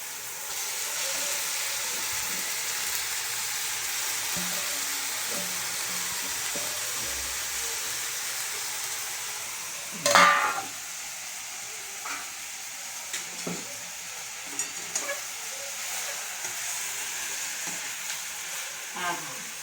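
Vegetables tossed into a hot pan with moong dal sizzle and hiss steadily as they are stir-fried, with a few scraping clinks of a spatula and a brief louder burst partway through.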